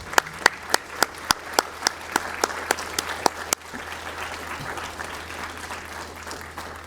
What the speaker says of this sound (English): Let's get another round of applause for our nation's heroes